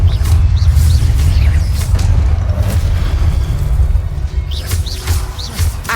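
Confringo blast spell in the video game Hogwarts Legacy: a loud, sustained low rumbling boom with crackling debris and bright chirping effects scattered on top, filling the whole moment.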